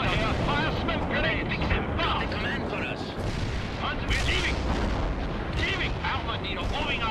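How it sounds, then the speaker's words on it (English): Dense artillery fire and explosions from the World in Conflict campaign mission Seeing the Elephant, with loud, continuous rumbling booms and sharp bursts overlapping without a break. "That's the other artillery piece taken out."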